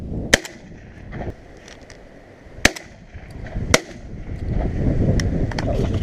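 Shotgun firing at pigeons over decoys in an oilseed rape field in winter: a few sharp, loud reports spaced apart over steady outdoor background noise.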